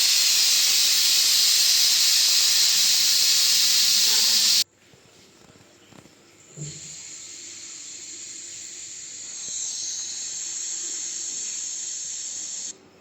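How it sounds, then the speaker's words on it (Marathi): A pressure cooker cooking rajma on a gas stove releases a loud, steady hiss of steam for several seconds, then drops to a quieter, continuous hiss that rises slightly again near the end. "आता उकळी आल्यावरती आपण ह्याला कुकरला गॅसपेट लावून बंद करू, शिट्टी लावूया"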